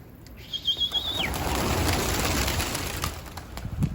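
Pigeons, yellow-marked birds, flap their wings hard in repeated bursts as they try to take off, a dense close fluttering that runs throughout, with a brief high whistle-like tone early on.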